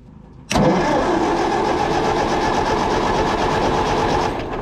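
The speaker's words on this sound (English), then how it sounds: "So I'm gonna roll the tractor over" An old, broken tractor's engine is rolled over, starting abruptly after a brief quiet moment and then running as a loud, steady mechanical churn close by until it eases slightly at the end.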